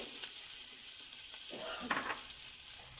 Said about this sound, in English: Now I'm going to be dropping in my onion. Let this fry off.